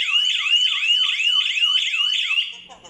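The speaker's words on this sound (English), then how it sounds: "It will trigger the alarm. Means somebody have opened the door or the window." A Daytech wireless home security alarm sounds a loud, rapid warbling electronic siren that repeats steadily for over two seconds, then cuts off abruptly.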